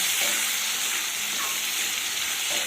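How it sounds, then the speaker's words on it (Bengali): Curry leaves frying in tempering oil for moong dal, a dense, steady, close sizzle that crackles without pause throughout. "কারি পাতাটা দিয়ে সবটা ফোড়ন সুন্দর করে একটু ভেজে নিতে হবে"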